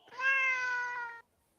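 A single drawn-out cat meow, clear and close, lasting about a second before cutting off into silence.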